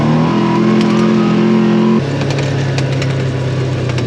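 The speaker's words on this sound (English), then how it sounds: "Traffic out here is terrible." A car accelerates along a road beside a vegetable farm, its engine note loud and close, shifting pitch midway as it goes past, with no talking over it.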